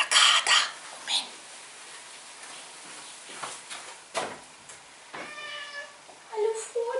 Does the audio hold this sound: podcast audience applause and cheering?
no